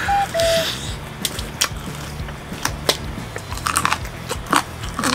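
Crisp bites and crunchy chewing of golden olive fried chicken, close to the mic, with repeated sharp crackles and crunches in an uneven rhythm over a quiet background hum.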